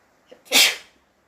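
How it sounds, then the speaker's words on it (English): A single loud, explosive sneeze, with a quick sharp inhale just before it, close up and alone. "And I feel like I'm going to sneeze."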